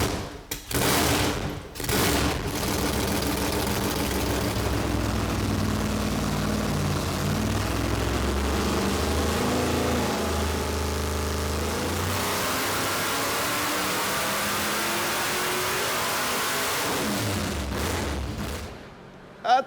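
The engine of a 1970 Dodge Super Bee roars on a dyno, climbing through a long, loud sustained pull with rising pitch, then dropping away near the end after a few short blips at the start.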